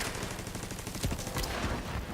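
Automatic turret gunfire aimed at enemies during a Division game session, rapid overlapping shots forming a dense, continuous rattle of steady loudness with no speech.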